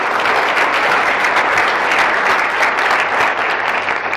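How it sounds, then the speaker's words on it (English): Audience at a forex trading seminar breaking into dense, sustained applause, loud and even throughout with no pauses and no speech over it. "Come, clap."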